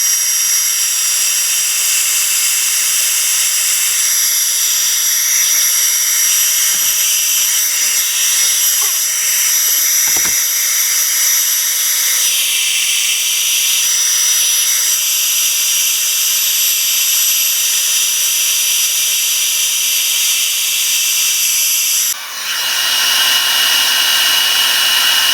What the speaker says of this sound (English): I'm going to turn the heat tool on again